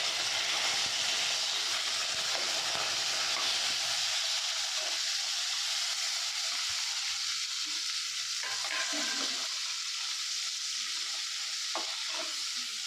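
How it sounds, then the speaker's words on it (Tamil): Tomatoes sauté in a pan with bay leaf, cinnamon, cloves and curry leaves for spiny brinjal chops, producing a constant soft hiss and sizzle with some low rumbling early and a few faint clinks later. "தக்காளி இப்போ நல்லா வதங்கட்டும்"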